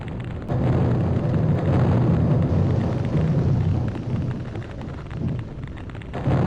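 Loud, continuous rumbling thunder from the video game Nightmare Creatures II, booming like bombs bursting overhead, sustained and heavy throughout with no talk.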